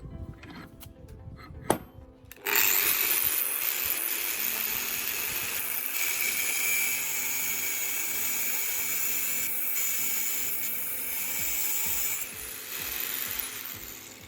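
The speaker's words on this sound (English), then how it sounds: "Then use your angle grinder to cut off the dull tip along the line you marked." An angle grinder cuts the dull tip off a drill bit clamped in a vise, starting with a sharp spin-up and then a loud, sustained high-pitched metal grinding whine that holds steadily before tapering off at the end.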